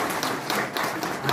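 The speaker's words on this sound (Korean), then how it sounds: "네, 박수 부탁드립니다." Audience applause at a municipal award ceremony in Eumseong County, Korea: a short burst of dense, steady clapping from a crowd, moderately loud and continuous throughout.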